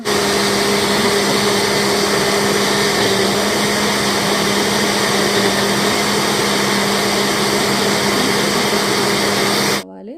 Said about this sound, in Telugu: పెద్ద జార్లో మొత్తం మిక్స్చర్ అంతా నేను మళ్ళీ ట్రాన్స్ఫర్ చేసేసుకొని మిక్సీ చేశాను